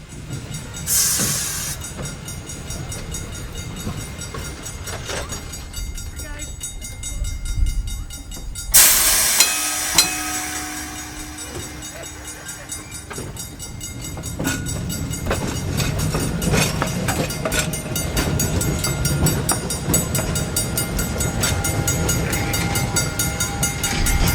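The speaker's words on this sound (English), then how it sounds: "The first movement of the day is streetcar number 3142, built in 1923 for the Chicago Transit Authority." A 1923 Chicago Transit Authority streetcar, number 3142, runs at a railway museum, its steady rolling rumble and wheel rattle continuing throughout, a sharp hiss bursting out briefly partway through, with no talk.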